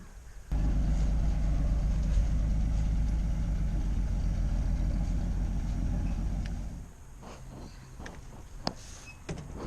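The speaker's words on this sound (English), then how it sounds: "My grandfather was bringing around a rather old but charming wrecker." An old wrecker truck's engine rumbles steadily for about six seconds before dying down, leaving quieter scattered clanks and knocks, while preparing to pull out a Pontiac Fiero.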